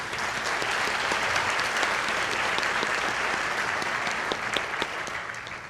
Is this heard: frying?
no